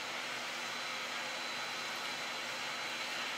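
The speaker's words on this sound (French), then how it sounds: "on entend le ventilateur du Mavic là qui s'est mis en marche" The internal cooling fan of a DJI Mavic Pro Platinum drone whirs with a steady, airy hiss, constant and unchanging, moderately faint and heard alone.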